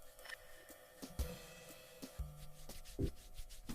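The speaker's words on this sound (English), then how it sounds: "Rub palms with interlaced fingers." Wet hands rub palm to palm with interlaced fingers during handwashing, giving faint, soft scrubbing strokes with a few light knocks, close by and quiet.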